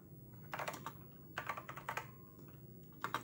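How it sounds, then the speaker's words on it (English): Keys clatter on a TI-99/4A home computer keyboard in a few short clusters of quick presses, close and fairly quiet, with no talking. "So if I was to type something in"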